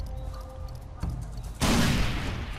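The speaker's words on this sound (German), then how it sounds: "Granate." Far Cry 4 combat: scattered shots and thumps, then a grenade goes off in a sudden loud blast that leaves a dense rumbling roar.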